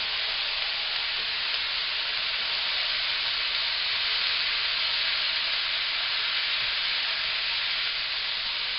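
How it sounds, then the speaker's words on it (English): Spam fried rice with soy sauce sizzles steadily in a hot pan as it is stirred, a constant close frying hiss with faint scraping and no voices. "Just stirring to make sure it all gets blended."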